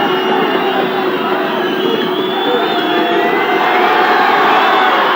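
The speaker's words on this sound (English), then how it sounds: "Getting a hard time from the crowd." Rugby league crowd at a 1985 Kiwis versus Hull F.C. match, a broad, steady roar of many voices jeering a goal kicker, continuous and fairly loud throughout without any clear break.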